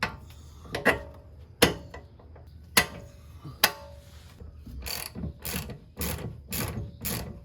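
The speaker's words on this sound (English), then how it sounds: "you can go ahead and put those bolts back on there and bolts back on for your quad shock" Ratchet clicking in short bursts while bolts are tightened on a coil-over rear shock of a 2002 Mustang, close and loud, several separate runs of rapid clicks with pauses between, a faster series near the end.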